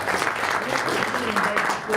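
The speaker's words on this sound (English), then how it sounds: "Could we applaud for this?" An audience claps at a school board of education meeting, a brief dense patter of applause from a room of people with some voices mixed in.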